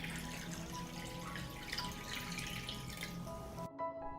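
Water running into a pot that holds glass jars of preserved fruit on a cloth, a steady pouring and trickling wash with a faint ringing tone, close by, cutting off abruptly near the end.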